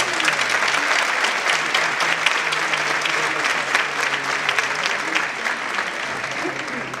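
Sustained audience applause for a room of teachers, dense steady clapping from a seated crowd throughout, loud and fairly close, easing slightly toward the end.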